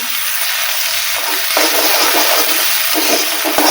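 Onions frying in a pan with ginger, garlic and chili paste, a loud, close, continuous sizzle with short bursts where the paste hits the hot oil or gets mixed in, and no talking.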